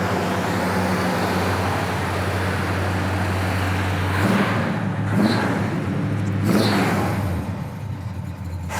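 A 1969 Pontiac GTO engine runs steadily while warming up on a cold day, then revs up in two or three rising swells near the end, loud and close with no talking.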